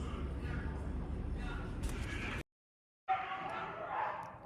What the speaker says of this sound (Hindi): ऊपर से कुत्ते भौंक रहे हैं बाहर।